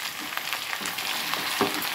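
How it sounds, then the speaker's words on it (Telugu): Onion and ivy gourd pieces fry in a pan with a steady, dense sizzle that continues unbroken, close and moderately loud, with no talking. "ఉల్లిపాయ ముక్కలు కొంచెం వేగితే చాలండి, ఎందుకంటే దొండకాయ కూడా వేగాలి కదా."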